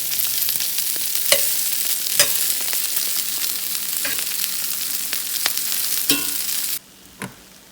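Food sizzles and fries steadily in a pan on a home stove, broken by sharp scrapes and taps as pieces are turned one by one, before the sizzle cuts out near the end.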